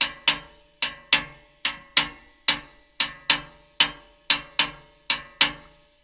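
A cascara pattern played on the shell of timbales, a string of sharp, dry, woody clicks in a syncopated rhythm with regular accents, about fifteen strikes, close and clear with no voices.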